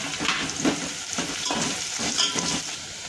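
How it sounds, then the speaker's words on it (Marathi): Chopped onion frying and sizzling in a pan with bay leaf and cinnamon, a steady crackle broken by the scrape of a spoon stirring every half second or so, close and fairly loud. "कांदा आपल्याला आता 2 मिनिटं परतून घ्यायचा आहे, चांगला थोडा गुलाबी कलर येईपर्यंत"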